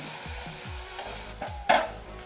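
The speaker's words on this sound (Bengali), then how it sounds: "মশলাটা একটু কষিয়ে নিচ্ছি।" Bengali spice paste with cumin powder and a little water sautéed and stirred in a pan, a soft sizzle under a few quick scraping strokes of the spoon, close and quiet.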